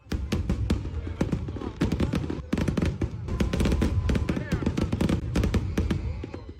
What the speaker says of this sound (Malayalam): Burj ഖലീഫയിലെ വെടിക്കെട്ടും drone ഷോയുമായിരുന്നു ദുബായിയുടെ ശ്രദ്ധാകേന്ദ്രം